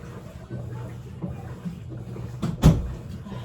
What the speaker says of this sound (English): Sorry, I had to close the door.